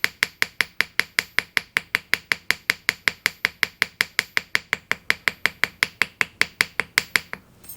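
Ball peen of a chasing hammer striking a small metal leaf on a jeweler's ring, a steady run of about forty sharp, bright metallic taps at an even quick rhythm, close and alone.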